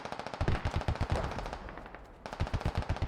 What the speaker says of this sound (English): Diabetes is actually shooting at his buddies right now